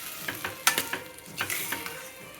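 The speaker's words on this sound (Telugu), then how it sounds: "ఈ కొర్రబియ్యం వేసి కూడా మళ్ళీ ఒక 2-3 నిమిషాలు మంచిగా ఫ్రై చేసుకోవాలి." Foxtail millet fries in a pan while being stirred, close scraping strokes coming in a quick uneven rhythm over a soft continuous sizzle.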